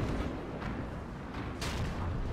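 In a tank combat video game, heavy cannon fire and distant booms roll under a constant thick rumble of battle noise, with a sharper blast about two-thirds of the way through.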